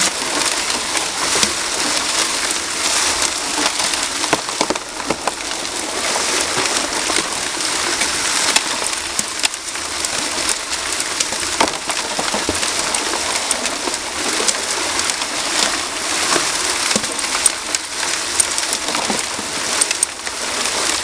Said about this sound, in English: I got water coming in the side, rinsing off the rocks there